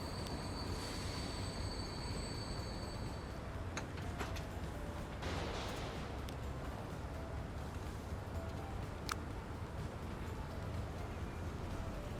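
A train rolls along steadily in the Transport Fever 2 video game, a continuous broadband rumble of wheels on track with a brief high squeal or ring standing out near the middle, heard alone without talk.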